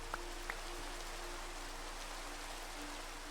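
Rain falls in the video game Minecraft at night, a steady even hiss of downpour with a couple of faint clicks near the start and no talk.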